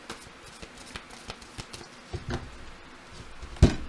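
Tarot cards being shuffled and cut by hand, a run of light, crisp riffles and taps close by, closing with one sharp louder slap of the deck.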